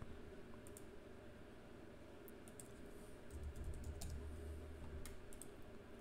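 Keys clatter on a computer keyboard in short, irregular bursts of light clicks, faint against a steady background hum, with no speech.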